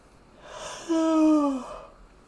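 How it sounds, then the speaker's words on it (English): A single drawn-out human yawn, rising then sliding down in a tonal, voiced sweep about a second long, close and fairly loud against a quiet background, with a breathy inhale at the start and fading breath at the end. "I'm yawning"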